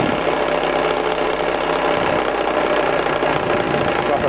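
An Induma IS/43 turret mill, Italian-made, runs its spindle at roughly 2000 RPM with a steady, loud mechanical whir and hum that holds constant throughout, with no talking.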